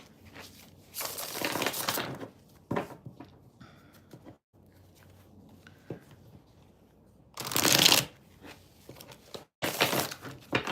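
Tarot cards are shuffled during a live reading: several loud riffling bursts about a second long, separated by quieter handling, taps and shifting of the deck, close to the listener.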